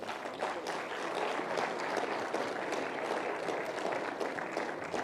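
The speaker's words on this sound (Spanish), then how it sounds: "Le damos unos fuertes aplausos." Sustained applause from an audience at an evangelistic gathering, dense steady clapping at close range throughout with no break.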